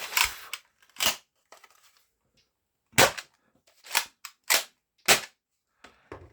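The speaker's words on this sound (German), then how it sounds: "Wenn man da schnell schießen will, klemmt das wohl eher." A toy dart blaster with a magazine fires a series of sharp, snappy shots, about seven of them, close and loud at irregular intervals, with brief silences between.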